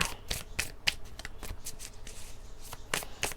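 Tarot cards being shuffled and drawn, with crisp, evenly spaced slaps and flicks of card against card. Close and clear, with no one speaking.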